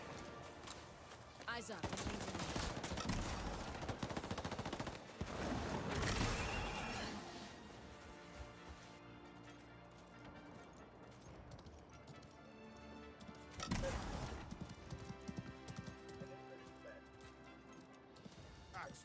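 Horseback galloping and combat in the video game Highguard, loud crashing hits, hoofbeats and gunfire-like bursts over continuous game noise, with a player talking over the action.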